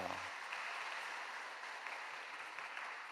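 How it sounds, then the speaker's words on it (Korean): Steady applause from a crowd, a dense even patter of clapping that holds for a few seconds without voices over it. "은혜의 말씀을 전해주신 선교사님께 감사의 박수 드리겠습니다."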